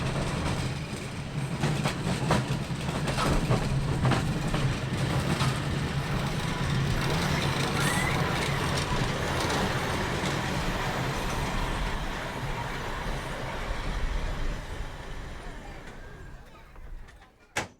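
Auckland tram number 11, built in 1902, rolls along the MOTAT tramway with a steady rumble and rail clatter, loud and close from on board, before slowing and fading near the end.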